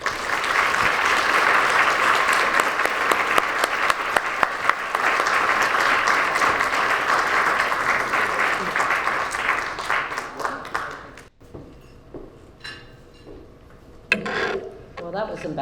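Loud, dense applause fills an arts awards ceremony for an award recipient, sustained for about ten seconds with some sharp individual claps, then dying away abruptly into quieter room noise with scattered claps and a few voices.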